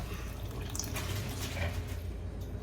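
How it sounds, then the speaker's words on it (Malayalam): Hot water poured into a simmering fish curry in a home kitchen makes a continuous soft, watery rush, even and fairly close, with no talk. "ചൂടുവെള്ളം തന്നെയാണ് ഞാൻ ഒഴിക്കുന്നത്"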